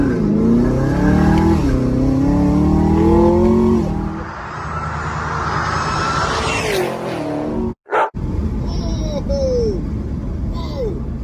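A 2017 Chevrolet Camaro ZL1 in track mode with traction control off accelerates hard, its engine note climbing loud and close through several rising sweeps before a short cut near the end, with someone talking in the car.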